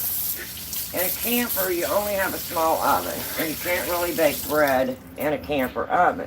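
A kitchen tap runs steadily while hands are rewashed, a continuous hiss of water under someone speaking close by, cutting off near the end.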